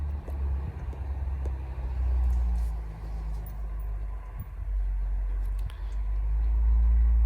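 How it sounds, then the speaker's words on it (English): School bus passing outside a home, a faint, distant low engine rumble that swells and lingers, muffled as if heard through walls, with no talk over it. "That is definitely the sound of the school bus."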